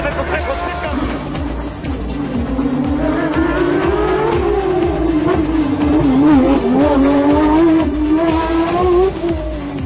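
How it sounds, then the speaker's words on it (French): A Porsche rally car races a stage of the 2017 French rally championship. Its engine note rises and falls loudly and steadily through the gears, while a narrator speaks over it throughout. "c'est Patrick Rouillard qui impose sa Porsche à la mélodie inégalable."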